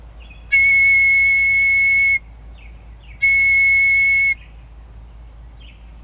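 A high, shrill whistle blown through a hollow stick, heard as two loud sustained blasts separated by a short gap, with faint chirps in between.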